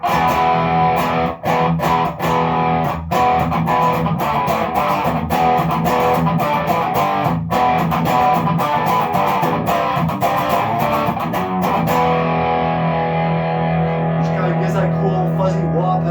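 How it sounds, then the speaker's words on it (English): A heavily distorted electric guitar plays sustained, buzzy fuzz-toned chords and notes, loud and close, ringing out toward the end. "when you add a little bit of fuzz or distortion"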